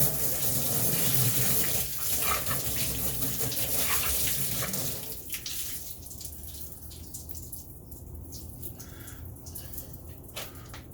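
Water rinsing off a test panel of coated surfaces, a loud steady spray gushing and splattering at first, then easing into a lighter trickle with scattered drips.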